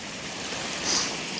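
Clear mountain stream water rushes steadily off the mountainside through the bush into a backyard, a broad, continuous wash of flowing water close by.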